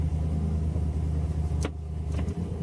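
A 2013 BMW M3 Competition Package in M mode, with electronic damping on its middle setting, drives with a steady low engine rumble and road noise throughout, plus a couple of brief higher swishes near the end.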